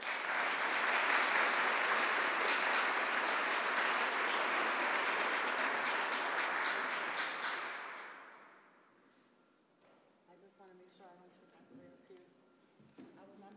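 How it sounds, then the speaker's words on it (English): An audience at a government announcement on gun violence in New York bursts into loud, sustained applause for about eight seconds; it fades away and a speaker begins talking. "Give yourselves a round of applause"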